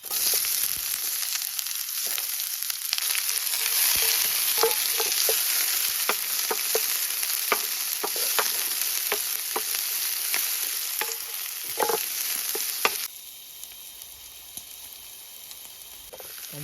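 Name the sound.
garlic frying in a pan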